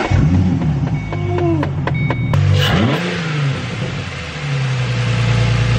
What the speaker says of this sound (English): last thing is to fire it up to make sure everything works